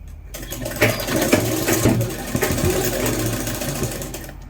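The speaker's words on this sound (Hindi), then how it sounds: "इस पार्ट में भी हम इसी तरह से सिलाई लगाते चलेंगे" A sewing machine stitches along the drawstring casing of a churidar, its motor running in steady, fairly loud bursts with rhythmic needle chatter and brief pauses, with no talking.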